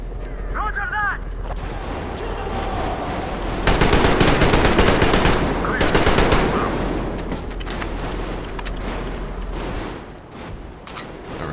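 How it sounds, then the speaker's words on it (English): Sustained automatic gunfire from the video game Metro Exodus, dense rapid bursts running throughout at close range and swelling louder midway, with game voices talking over it. "Covering fire for the Colonel. No saving ammo."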